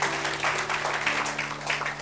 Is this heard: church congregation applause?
yes